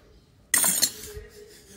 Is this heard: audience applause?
no